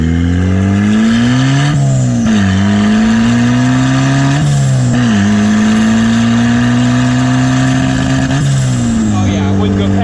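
A turbocharged Mazda Miata revs hard through several rising and falling sweeps, its engine note climbing and dropping sharply with bursts of blow-off valve release, loud and close, while people talk over it inside the car.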